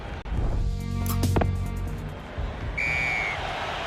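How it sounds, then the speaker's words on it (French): A referee's whistle signals half-time in a Top 14 rugby playoff quarter-final between RC Toulon and Stade Rochelais: a shrill blast over steady stadium crowd noise, followed a moment later by a second shorter tone. "L'arbitre siffle la mi-temps."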